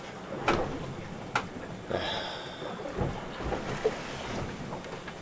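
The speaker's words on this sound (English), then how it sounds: "Wind just picked up to like 15-20 knots in the anchorage here" Strong wind of about 15 to 20 knots gusts through a sailboat anchorage during a squall, a steady broadband roar with rumbling buffets and several sharp gust or wave thumps.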